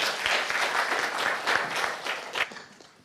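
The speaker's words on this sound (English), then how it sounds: "Can we give another round of applause?" Conference audience at an academia, public and private partnership forum applauds steadily, a dense wash of clapping with a few louder bursts before tapering off at the end.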